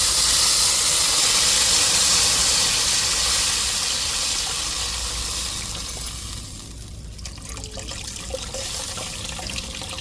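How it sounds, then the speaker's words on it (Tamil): Tamarind water hits a hot tempering in a pan for a fish curry, giving a loud, steamy hissing sizzle that slowly settles into a quieter bubbling. "இப்போ நம்ம கரைச்சி வச்ச புளியை சேர்த்துக்கிடுவோம் தாளிப்புலையே"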